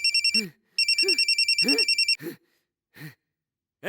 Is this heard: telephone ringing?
yes